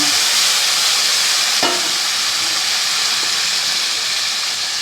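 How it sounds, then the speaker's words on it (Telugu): Boiled drumstick leaves frying in a hot spice tempering, giving a loud steady sizzle and hiss throughout, with a brief stirring scrape partway through. "కొంచెం ఇలాగా పోపులో వేగనిద్దామండి"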